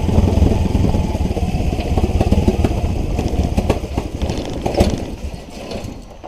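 A Subaru car engine with a lack-of-power fault runs loud at idle, giving a steady rumbling drone with a faint uneven pulse that fades slightly toward the end as it idles out.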